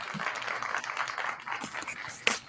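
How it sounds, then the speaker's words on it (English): An audience gives a short, warm round of clapping for a professor being introduced, with voices talking and cheering over it. "a warm clap for Professor Cheryl, who's in the house"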